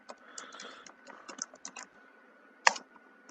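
Quick, close clicking of keys on a computer keyboard, irregular bursts of typing with one sharper, louder keystroke near the end, heard alone without talk.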